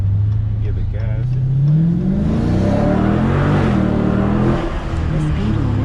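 A 2022 Dodge Challenger Scat Pack Widebody engine accelerating on a low-speed street, a loud deep rumble that climbs and swells as it revs, with people talking faintly over it.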